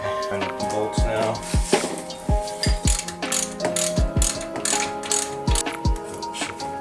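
A ratchet wrench tightens bolts on coilovers being fitted to a Subaru Impreza, giving short bursts of clicking, sometimes quick and sometimes spaced out, close by over a low mechanical background.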